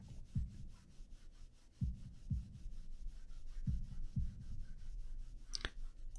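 A slow heartbeat sound effect from the visual novel Katawa Shoujo thumps in low, soft double beats, repeating steadily under a faint hiss with no talk.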